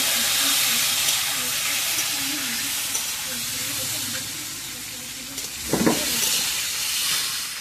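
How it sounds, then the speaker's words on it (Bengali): Nine eggs fry in well-heated oil for a steady, hissing sizzle that runs throughout. A brief louder burst of spatter comes near the end, with no talking. "তেলটা ভালোভাবে গরম হয়ে গেছে, আমি ডিমগুলো এবার ভেজে নেব।"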